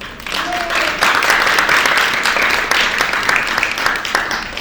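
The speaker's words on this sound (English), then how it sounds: "let's welcome our panelists with a big round of applause" An auditorium audience at an art panel gives sustained, loud applause to welcome the panelists, a dense wash of clapping that holds steady throughout.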